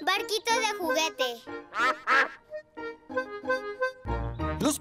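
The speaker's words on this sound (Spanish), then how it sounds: "Los patos nadan en su estanque." Cartoon ducks quacking at a pond in a Peppa Pig episode dubbed in Spanish: a run of rapid, nasal quacks up close, with a voice and narration mixed in.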